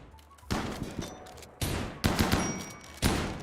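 Video game gunfire in several loud, close bursts of rapid shots, each followed by a ringing tail, with quieter gaps between them.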